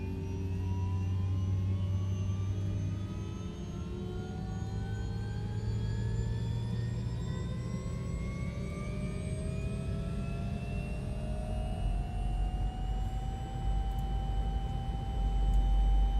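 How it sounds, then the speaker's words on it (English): A Robinson R66 helicopter in a flight simulator: turbine whine climbs steadily in pitch over a low engine drone, building gradually as the engine spools up, heard from inside the cabin. "we're going to listen to the helicopter wind up from the inside."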